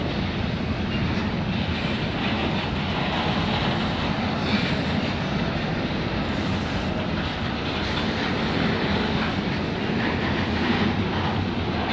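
CN Z149 container train rolls past at night at Bayview Junction, a steady, broad rumble with faint rail clatter, continuous throughout and fairly close, with no voices.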